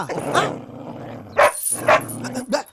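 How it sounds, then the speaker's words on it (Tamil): A dog barks about four times in a film scene, sharp and close, with short gaps between the barks. "தெய்வராசு ஐயா ஒரு நாயை வளர்த்தா"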